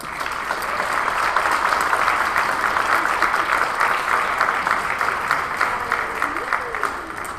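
An audience at a Mexican gastronomy forum applauds a chef in a steady, dense round of clapping that fills the hall at even strength throughout.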